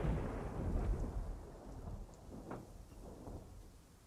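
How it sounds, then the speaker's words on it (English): Steady rain with rolling rumbles of thunder in a survival video game, a continuous wash of downpour and low booms with no voices. "It's raining, but it doesn't look like it's raining on me."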